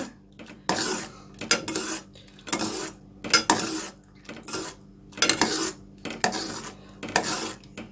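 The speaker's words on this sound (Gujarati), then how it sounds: "આપણે આને કન્ટિન્યુ સ્ટર કરતા રહેવાનું છે." A metal spoon stirring thickening milk in a pot for homemade mango ice cream, rhythmic scraping strokes against the pot about once a second, close and steady without voices.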